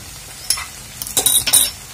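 Salted leafy greens stirred in a pan with a spoon, a few scraping clinks and soft sizzling bursts close up, brief and alone.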